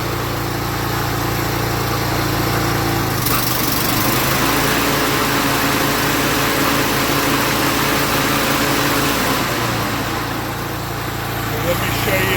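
A Toro Timemaster lawn mower engine runs loud and steady, and the tone shifts as the cutting deck engages, then holds a continuous drone close by. A voice speaks faintly over the engine.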